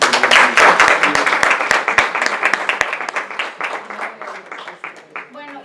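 An audience at a commemoration of Mexico's 1917 Constitution claps in sustained applause, loud and dense at first, then thinning into scattered claps and fading toward the end.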